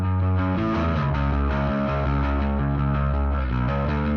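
A bass guitar played alone through a Bogren Digital Ampknob amp simulator carries a gritty saturated tone across a continuous line of distorted notes. No voices are heard.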